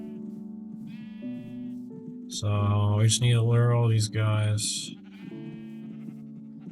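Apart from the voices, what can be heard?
sheep bleating in Minecraft video game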